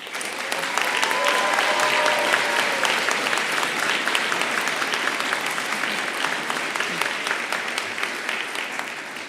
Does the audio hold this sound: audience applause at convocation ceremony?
yes